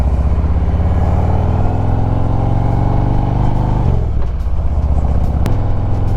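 Motorcycle on the Foothills Parkway taking off, a loud close engine drone that drops in pitch partway through as it shifts and pulls away, steady throughout with no speech.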